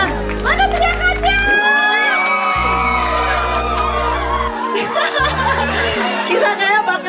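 A live audience at an Indonesian film screening cheers, whoops and shouts loudly as an actress is introduced, a dense, sustained crowd roar with children's shrieks and chatter throughout.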